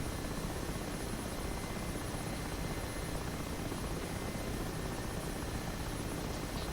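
Mi-8 Hip helicopter in the DCS World flight simulator, a continuous dense rotor and turbine drone, steady and loud, with no speech over it.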